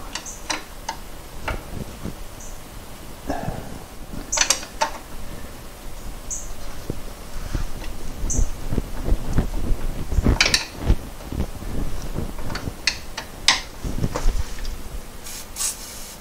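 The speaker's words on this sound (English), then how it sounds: "These are studs in the pedal box, so I really don't want to break them off. So we'll work these and get them out." Hand ratchet working bolts loose from the studs of a Porsche 912 pedal box, a series of sharp ticking clicks in bursts with brief pauses, close and fairly loud, with no talking.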